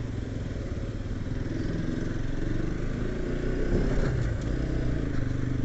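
Scooter riding along a road, its small engine droning steadily with clattering road and wind noise, loud and continuous, with a brief rising rev near the middle.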